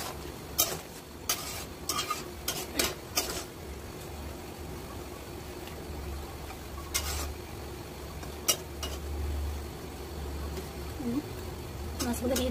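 Fish sizzle in a pan with kachu loti as they are stirred, a steady low frying hiss broken by sharp scrapes and knocks of the utensil against the pan.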